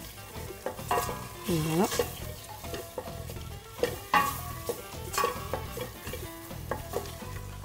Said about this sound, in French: une bonne cuillère de tomate concentrée et on vient mélanger le tout